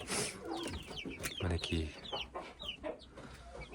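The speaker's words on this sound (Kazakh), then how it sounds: "Мына әтештері бар." Hens and roosters in a backyard flock cluck and chatter nearby in quick, overlapping calls, and a person speaks briefly over them.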